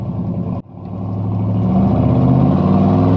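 A 1995 Chevrolet C1500 Silverado pickup engine idles loudly and close. It briefly dips, then settles back into a steady, rising drone as the truck backs up.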